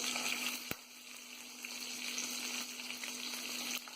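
Green chili and onion fry in a pan, making a faint, steady sizzle with a sharp clack near the start and light stirring sounds.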